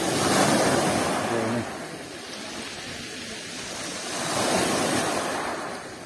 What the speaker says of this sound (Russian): Бушующее море.